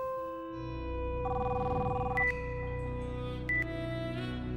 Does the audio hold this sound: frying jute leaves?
no